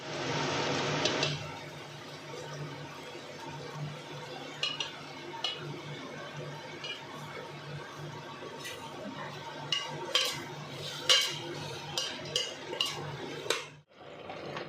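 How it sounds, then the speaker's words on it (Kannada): Chopped ridge gourd tipped into a pan of tomato-based masala for ridge gourd sambar, followed by repeated clinks and scrapes of a spoon stirring against the metal pan, irregular and close. "ಈಗ ನಾನು ಕಟ್ ಮಾಡಿ ಇಟ್ಕೊಂಡಿರೋಂಥ ಹೀರೆಕಾಯಿನ ಸೇರಿಸ್ಕೊತ ಇದ್ದೀನಿ"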